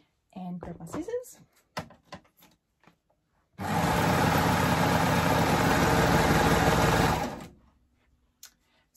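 A coverstitch sewing machine fitted with a knit binder runs at a steady, even pace for about four seconds, close and clear, after a few soft handling clicks and some talking at the start.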